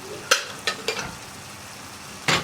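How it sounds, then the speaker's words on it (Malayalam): Boiled chickpeas tipped into curry masala in a pan, with a few splashing, scraping bursts followed by a quiet pause and then another sizzling pour at the end. "ഇനി നമുക്കിതിലേക്ക് നമ്മുടെ കടല വേവിച്ചതും കൂടി ചേർക്കാം."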